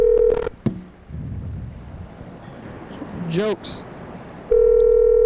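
A telephone call is dialed and connects, with short tones, a rising warbling signal and then a steady held tone, amid windy background noise and a brief spoken word.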